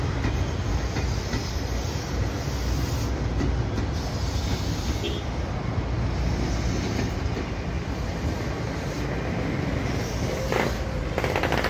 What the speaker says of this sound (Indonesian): KRL Komuter Line yang akan berakhir di stasiun Jakarta Kota via Pasar Senen akan memasuki di jalur 5 atau peron 5 dari stasiun Jatinegara